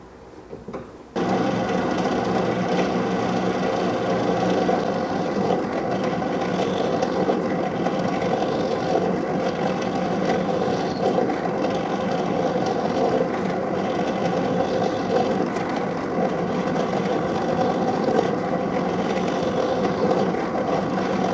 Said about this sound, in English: Here I am setting up the drill press depth to not drill all the way through.